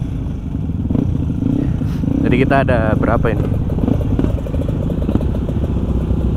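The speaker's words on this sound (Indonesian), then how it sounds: "Sekalian nyoba ini motor. Ini motor kan baru jadi." A newly built 150cc motorcycle engine runs with a low, steady throbbing rumble throughout, close and continuous, while a person speaks briefly over it mid-way.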